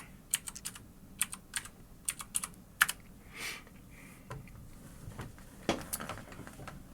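Login details are typed on a computer keyboard in close, crisp bursts of quick key clicks with short pauses between the runs, under a faint room hush.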